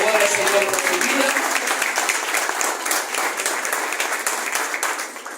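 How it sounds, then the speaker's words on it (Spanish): A church congregation applauds steadily and loudly, with dense clapping filling the whole stretch and slowly thinning toward the end. "Fuerte el aplauso, por favor, al Señor por su vida."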